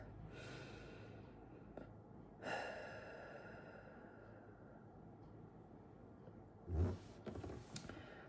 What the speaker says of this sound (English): Let me take a deep breath.